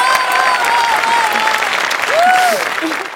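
Studio audience at a Marathi comedy show applauding a performing team, giving dense, loud, sustained clapping with a voice speaking over it.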